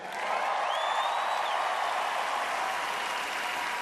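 Sustained applause from a large audience at the 2016 Miss Universe pageant, a dense, steady roar of clapping that continues evenly throughout.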